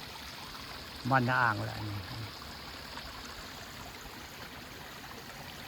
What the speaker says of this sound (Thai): นี่คือน้ำตกวัดคูเบียน